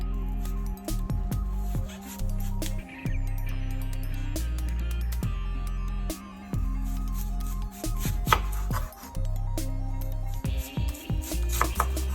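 A knife dicing food on a cutting board while preparing Baja fish tacos, with a run of close, sharp, uneven chops separated by short pauses and a steady background hum, no talking.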